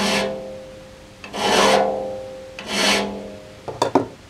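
A hand file rasps across a burr on a sawmill blade in a few long, slow strokes, then a quick pair of short scrapes at the end, close and fairly loud with no talk.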